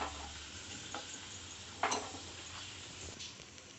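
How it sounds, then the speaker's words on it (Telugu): Cashews frying in ghee in a pan, a steady soft sizzle with a few louder crackles and stirring clinks, close and alone without talk. "ఇది వచ్చేసి ఇంకా జీడిపప్పులు అవన్నీ వేగిపోయి తీసేసుకుంటున్నాను."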